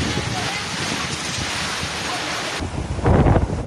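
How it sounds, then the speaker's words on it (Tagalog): Big waves roar in strong typhoon wind as Typhoon Enteng makes landfall at Casiguran, Aurora, a steady, close, wind-buffeted surf that swells louder in a heavy surge near the end. "Malalaki ang mga alon."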